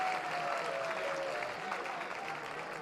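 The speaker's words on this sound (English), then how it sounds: "Bit of a Yankee Bronx cheer from the fans here in Ann Arbor." Baseball fans in the stands at a college game in Ann Arbor give a brief, mildly mocking cheer and scattered applause, a steady crowd wash with a faint whistle rising through it.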